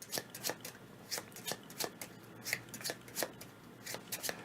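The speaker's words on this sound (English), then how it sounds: "All right, now we'll shuffle again." A deck of playing cards being shuffled during a tabletop board game, with repeated riffle bursts about every half second, quiet and close.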